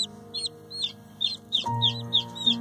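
High, chirpy peeping from baby chicks repeats steadily, close by, over a low steady hum that thickens partway through.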